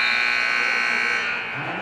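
A basketball buzzer sounds at the end of the first half of a girls' high school game between Selinsgrove and Wilkes-Barre Area, a loud sustained electronic tone that holds steady for well over a second before easing into gym noise.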